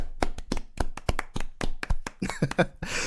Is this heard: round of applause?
yes